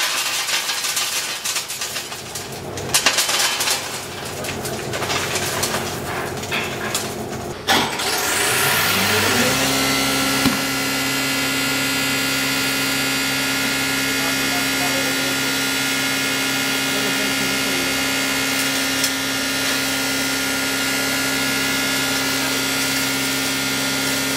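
A Samruddhi 3HP hammer and cutter masala pulverizer grinding salt: rough clattering noise at first, then the motor spins up into a loud, steady, droning hum with a sustained whine.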